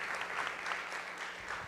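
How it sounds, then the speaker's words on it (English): Audience applause for an honoree at a Paterson women's leadership ceremony, a continuous moderately distant patter of many hands clapping at a fairly low level, with no voices over it. "Another round of applause for Jesse."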